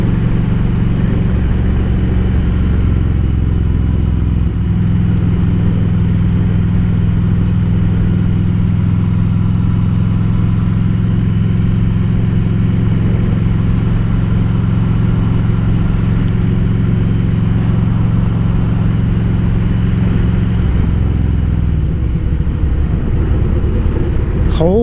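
A Harley-Davidson Road King motorcycle riding off-road across gravel, its engine a loud, steady low drone that shifts slightly in pitch partway through and holds close throughout.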